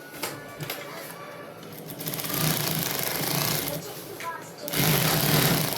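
A sewing machine stitching two fabric garment parts together, its whirring hum rising and falling in steady bursts near and fairly loud, with brief pauses between runs.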